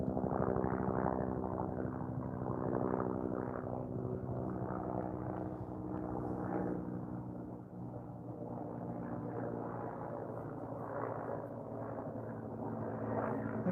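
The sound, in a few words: search and rescue helicopter flying overhead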